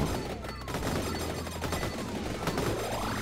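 Rapid gunfire in the video game Vampire Survivors, dense bursts of shots crackling in quick succession over layered game effects and sweeping tones, loud and continuous.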